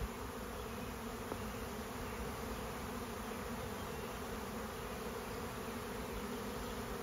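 A honey bee swarm moving into a hive makes a dense, steady buzzing hum that fills the air without pause, with no voices over it.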